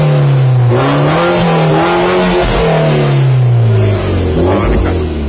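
A Mercedes A200 fitted with a new cutout exhaust revs loudly up close, its deep, full engine note rising and falling through several throttle blips with a slight dip near the end.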